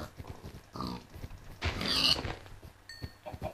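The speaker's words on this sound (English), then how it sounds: "Pig." A pig oinks and snorts in the video game Minecraft, several short grunting calls over game noise, with a louder burst in the middle and no speech.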